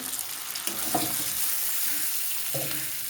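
Tomato, coriander, dried chilli powder and sugar tipped into ginger frying in a pan for a chana dal dish, a loud continuous sizzle with a couple of soft thuds and stirring noises, close and without speech.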